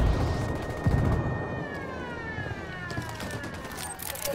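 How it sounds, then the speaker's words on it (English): Alarm siren in the video game Ghost Recon Wildlands, a wailing tone sweeping up and down, fairly loud with gunfire and rumbling game noise underneath. "Crap, the fucking alarm."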